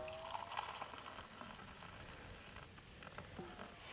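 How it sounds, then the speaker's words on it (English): A pot of water boils on a camping stove at a wild campsite, giving a faint bubbling and gurgling over low background hiss. "It doesn't take any time at all to boil a pot of water."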